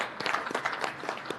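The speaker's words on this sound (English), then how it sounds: "I would like everyone in this room to please join me in giving a huge birthday applause" A few people clap quietly for a birthday in a House appropriations subcommittee hearing room. The claps are brief and scattered, with about a second of separate, soft hand-claps.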